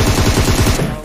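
Rapid automatic bursts from an M7 rifle in the mobile battle royale game PUBG/BGMI, about a dozen close, loud shots in a fast even rhythm lasting about a second.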